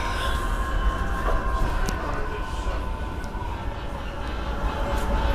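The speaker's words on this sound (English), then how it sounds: "You like this train ride here?" A steady rumble and rattle of a train interior carries on throughout, with faint squeals and clicks riding over the low drone.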